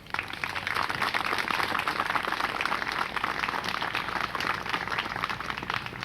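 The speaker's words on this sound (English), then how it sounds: "let's give a great round of applause to our Wilmington Wildcat High School Band" Audience applause for the Wilmington Wildcat High School Band at a Memorial Day community event, dense and continuous clapping from a crowd that holds steady throughout.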